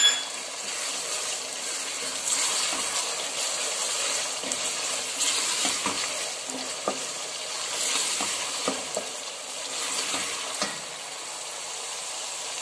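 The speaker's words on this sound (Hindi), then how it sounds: "थोड़ी देर मज़ीद भून लेंगे" Onions and green chillies frying in a pan give a steady, close sizzle throughout, with occasional stirring clicks and scrapes and no talking.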